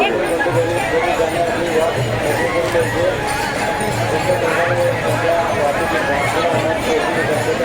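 Pilgrims throng the Sant Dnyaneshwar Maharaj Palkhi procession at Alandi, a thick, continuous murmur of many voices, close and busy, with scattered louder calls rising out of the babble.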